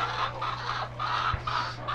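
Laying hens of ready-to-lay stock, about 62 weeks old, cluck steadily on an egg farm, with many birds calling in overlapping waves over a low, constant hum.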